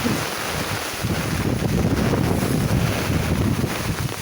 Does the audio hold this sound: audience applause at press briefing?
no